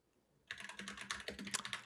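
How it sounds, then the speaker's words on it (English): Steady rapid typing on a computer keyboard starts abruptly after a short quiet moment and continues in dense, close clicks with a few louder key strikes. "We're typing away."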